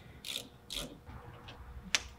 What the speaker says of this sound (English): take a 17 millimeter socket wrench, loosen up the top nut